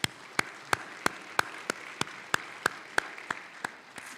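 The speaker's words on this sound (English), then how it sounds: "give her a round of applause" Sparse, evenly spaced claps ring out about three per second, sharp and distinct over a quiet room bed, at an awards ceremony for debate championships.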